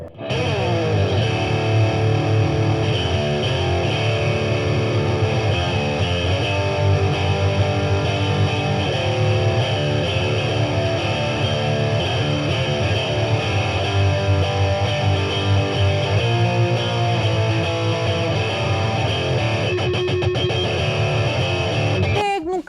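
Electric guitar played through a Boss DS-1X distortion pedal with distortion turned all the way up, giving a bright, metal-style tone; sustained loud chords ring continuously with no talking.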